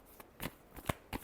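Tarot cards shuffled by hand in a few quick, soft riffling bursts, close and fairly quiet, with no talk.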